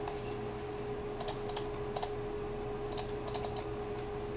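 Computer keyboard keys and mouse buttons clicking during SAP software work, a scattered series of light, sharp taps at close range over a steady electrical hum.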